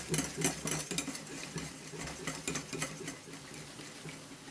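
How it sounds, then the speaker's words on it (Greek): Apple pie batter of melted butter and flour is stirred slowly in a bowl, giving a soft, continuous wet churning with faint rhythmic scraping, close and fairly quiet, without talk. "Θα το ανακατέψουμε σιγά σιγά να αφομοιωθούν όλα τα υλικά"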